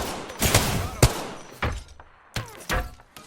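Gunfire in the Apex Legends battle royale shooter, bursts of close, loud shots and impacts in uneven clusters, separated by brief gaps and trailing reverb.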